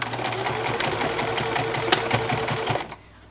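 Sewing machine running a long, larger straight stitch through cloth for a homemade cloth pad, a steady fast mechanical whirr with rapid needle rhythm, close and loud, stopping abruptly near the end.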